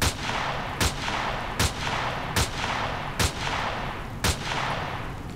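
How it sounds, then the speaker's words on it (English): Sniper rifle fire in the space survival game Empyrion: Galactic Survival, with six loud, sharp shots evenly spaced under a second apart, each cracking over a constant rumbling background drone. "My sniper rifle is able to do damage to them. But I'm unable to do damage to it with my miniguns."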